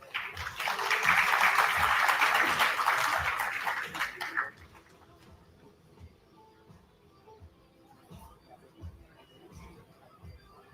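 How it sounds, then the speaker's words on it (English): Audience applause at a business school inauguration event, loud and dense for about four seconds, then cut off abruptly, leaving a quiet room with faint scattered noises. "Please give them a huge round of applause."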